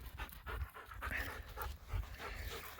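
A dog pants rapidly and steadily up close during a shed antler hunt for deer and elk, its quick breaths continuing without pause and no talking over them.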